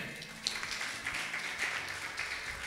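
A church congregation claps in praise, a brief, fairly faint patter of many hands filling the room with no voices over it.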